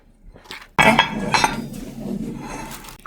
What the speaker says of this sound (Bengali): এখন এটাকে ঘুটাইতে হবে আবার